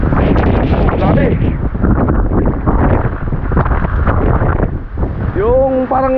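Powerful typhoon wind gusts heavily and without pause near a swelling river, loud and rough at close range, easing slightly toward the end as a faint tonal sound emerges.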